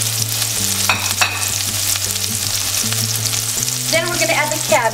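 Onions frying in a large pan for pad thai give a loud, steady sizzle close up, with a low hum running underneath and some brief stirring noises near the end.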